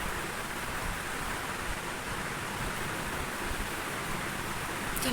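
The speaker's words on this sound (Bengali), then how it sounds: "বৃষ্টি হলে কিরম লাগে" Monsoon rain falls steadily outside as an even, unbroken hiss at moderate level, with no voices.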